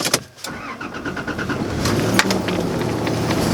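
A car rumbles along with a steady engine and road noise, a few clicks and knocks near the start, no talking.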